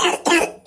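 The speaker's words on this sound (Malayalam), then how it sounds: "ആ ചുമയുണ്ടല്ലോ." Three short, close coughs in quick succession, harsh and loud, with brief gaps between them.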